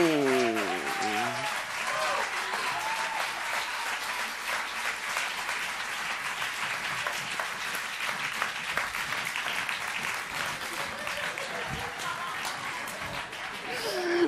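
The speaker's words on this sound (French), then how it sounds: "Et on les applaudit bien fort." Audience applauding after a live Cuban music performance, a dense, loud wash of clapping that holds steady for the whole stretch, with voices and cheers mixed in at the start and throughout.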